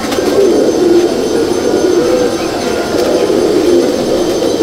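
Pigeons coo softly in a pigeon loft, low repeated calls over a steady dense background hum, continuous and close, with no talking.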